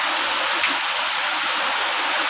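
Rain pours down steadily in a rural village in Tamil Nadu, a dense, loud, unbroken hiss of drops on the surfaces close by.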